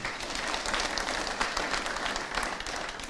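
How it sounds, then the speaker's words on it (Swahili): An audience at a Meru County swearing-in ceremony applauds with steady, moderately loud clapping that carries on evenly throughout. "Tuwapigie makofi sana."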